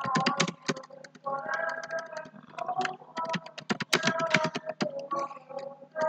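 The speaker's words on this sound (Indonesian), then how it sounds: "Saya ketik 2301." Keys clatter on a computer keyboard during accounting data entry, a quick irregular run of close clicks with brief pauses, over a faint tonal background.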